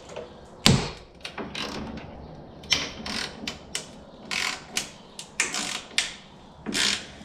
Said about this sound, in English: some popping and crunching. That's just the pretty much like the factory paint breaking